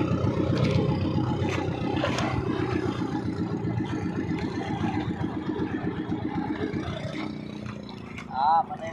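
A fishing boat's engine chugs steadily with a rapid, even mechanical pulse throughout, close and prominent, while voices talk over it out on the water.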